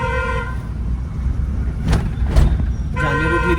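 A car horn held down in two long blasts, one at the start and one at the end, over steady engine and road noise from inside the car.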